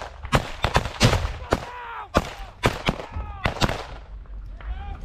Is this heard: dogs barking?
no